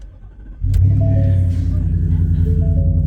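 A truck engine cranks and catches about 0.6 s in, then settles into a loud, steady, close idle rumble. A voice speaks over the engine.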